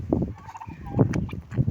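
Turkeys gobble close by in a series of loud, rapid, rattling calls that rise and fall several times in quick succession.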